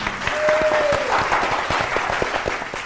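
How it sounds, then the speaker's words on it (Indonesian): A studio audience claps for the two competing teams on a Ramadan holiday-bonus quiz show. Dense applause holds steady and loud for a few seconds, with a brief tone sounding over it near the start. "beri tepuk tangan dulu untuk dua tim"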